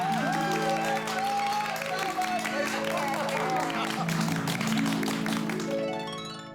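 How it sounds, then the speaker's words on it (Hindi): A crowd at a housing society gathering claps and cheers, the applause running steadily beneath swelling background music before tapering off at the end. "जोरदार तालियां बजाइए"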